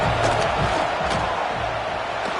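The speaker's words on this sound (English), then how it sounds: "This crowd trying to do its part to get inside the kicker's head." A stadium crowd in the College Football 26 video game roars with a steady, dense wash of noise, trying to rattle the kicker, sustained and loud throughout.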